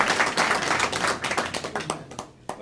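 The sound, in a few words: applause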